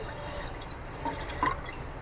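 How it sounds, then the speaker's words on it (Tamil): Water is poured into a pan while making a mango sago drink, giving a steady trickling, dripping wash with a couple of small splashes, close and moderately loud. "இப்போ வந்து இதில் வந்து நான் கொஞ்சம் தண்ணி ஆட் பண்ணுறேன்."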